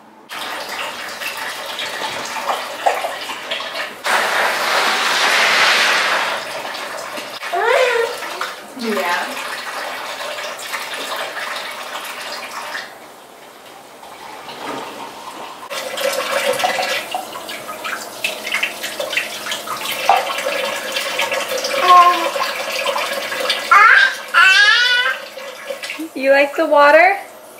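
A small child plays at a kitchen sink, splashing in running tap water that flows and gurgles up close while adults talk over it for much of the time.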